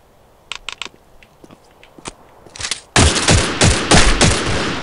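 Gunfire in a shootout in the Postal video game: scattered sharp single shots at first, then a loud, dense burst of rapid automatic fire that rattles on continuously.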